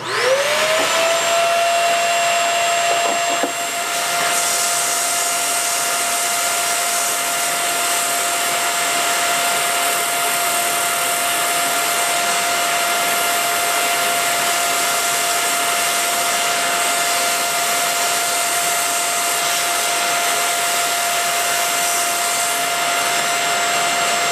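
A shop vacuum roars continuously alongside the high, steady whine of a drill press polishing Crystal Lake Mine peristerite with 50-grit abrasive. The loud, unbroken machine noise runs throughout with no talking.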